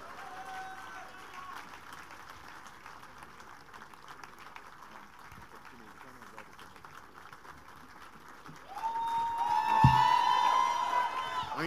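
Church congregation clapping and cheering for Pastor Kunle Soriyan, a soft distant wash of applause that swells louder near the end with whoops and a sustained tone over it.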